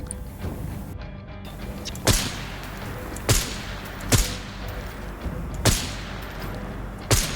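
Single gunshots ring out in the video game Arena Breakout: Infinite, six sharp reports spaced roughly a second apart over a steady background hum.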